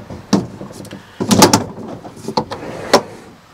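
A long Decked drawer in the bed of a Ford F-150 slides on its rollers, with a rolling rumble broken by several sharp clunks and knocks, close by.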